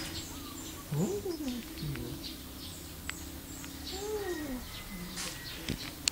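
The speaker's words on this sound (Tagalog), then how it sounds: "Turtle dove ang tawag yan." A turtle dove gives soft, low cooing calls in a couple of separate phrases, faint over outdoor background noise with other small bird chirps.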